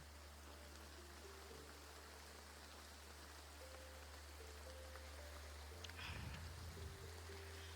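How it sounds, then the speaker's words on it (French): Heavy rain falling in the Graveyard Keeper video game, a faint steady hiss of rainfall with a low hum and soft game tones, plus a brief rustling burst near the end. "Ah oui, mais il pleut fort."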